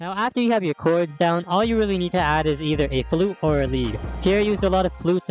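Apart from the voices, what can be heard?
None of the usual background noises is heard.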